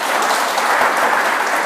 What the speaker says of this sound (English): I'll give these guys a clap for athletics